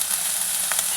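Peas sauté in a pan with a bright, continuous close sizzle and a couple of brief stirring clicks near the end, no talking.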